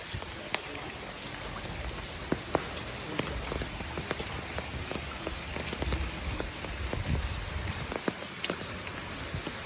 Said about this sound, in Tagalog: Tuloy-tuloy lang ang ulan.